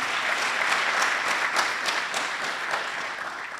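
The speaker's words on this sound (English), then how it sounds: "I wish to ask you to clap for the governor and his team." Steady audience applause fills a hall lent by the Bank of South Sudan, honoring the governor and his team at a sports ministry event. The clapping is dense, even and sustained throughout, with no speech over it.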